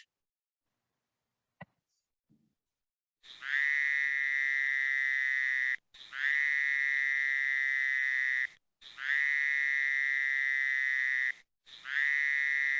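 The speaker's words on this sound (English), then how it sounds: "that's Fowler's toad" Fowler's toads give long, loud, nasal buzzing trills, each lasting a couple of seconds, repeated four times with short gaps, after a couple of faint clicks at the start.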